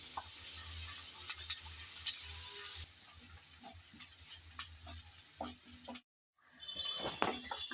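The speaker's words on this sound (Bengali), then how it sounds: "এখন আরেকটা কুন্তি দিয়ে আমি নেড়ে চেড়ে ভালোভাবে পেঁয়াজ রসুন বেজে নেব" Onion and garlic fry in hot oil while a ladle stirs them around the pan, a steady close sizzle broken by scraping strokes, briefly cutting out before resuming louder.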